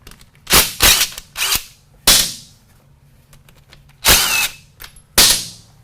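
Power drill backing out the four screws that hold a tracer attachment, several sharp whirring bursts of about half a second each, spaced by short pauses and close at hand.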